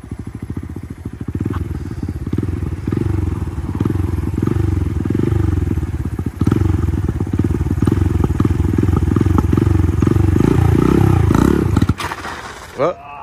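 A Honda Grom motorcycle takes off in first gear as the clutch is let out too fast, its engine revving in a loud, pulsing, uneven drone close by before cutting off abruptly with a thump.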